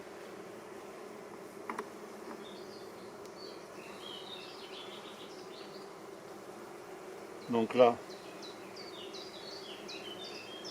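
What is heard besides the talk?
bees buzzing during a beehive visit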